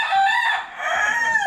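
A White Leghorn rooster crows loudly and close by, one long drawn-out call with a harmonic, strained tone and no other sounds around it.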